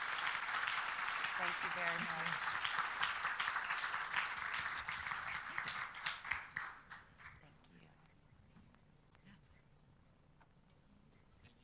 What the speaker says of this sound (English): If we could give another round of applause for Dr.